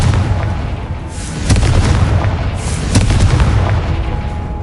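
Confringo fire-spell blasts in Hogwarts Legacy. Loud booming explosions land in quick succession over a rumbling roar, and no one speaks.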